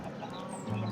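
Minecraft chickens in an Enigmatica 6 modpack livestock pen, short clucks from a crowd of birds, fairly faint over a steady background tone, with no talking.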